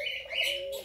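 Lofote pigeons in a new aviary give a short, clear call heard up close, a brief tonal note with faint background.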